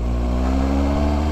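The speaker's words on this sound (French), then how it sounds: "Et cette moto, c'est la Suzuki GSX-S 750 en A2." Suzuki GSX-S 750 motorcycle in A2-restricted form, its four-cylinder engine running and revving steadily, loud and close, with no talking.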